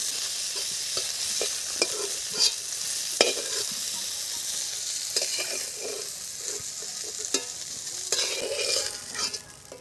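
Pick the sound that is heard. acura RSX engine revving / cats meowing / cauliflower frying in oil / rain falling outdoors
cauliflower frying in oil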